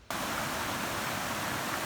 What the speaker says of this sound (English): This is one thing I don't often see, the beginning of a waterfall.